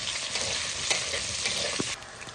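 Potatoes and carrots frying in a pan: a continuous close sizzle with a few soft clicks of stirring, easing slightly quieter near the end, no voices.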